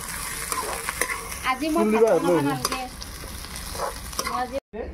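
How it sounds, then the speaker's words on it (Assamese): Onions frying in oil hiss with a steady sizzle while being stirred, a close, continuous crackle that has brief scraping stirs and a short break near the end. A voice speaks faintly in the middle. "এইফালে মাংস বহাব আৰু তেল পিঁয়াজ গোটেইখিনি দি ভাজি আছে"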